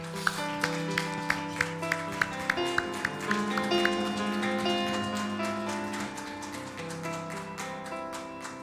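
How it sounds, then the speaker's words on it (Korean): Korean church congregation at a tenth-anniversary thanksgiving service applauding in rhythm, a run of sharp clustered claps over sustained keyboard chords and music, the claps fading into the ongoing accompaniment. "우리 영광 박수 올려드립니다."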